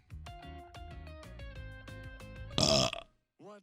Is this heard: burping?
yes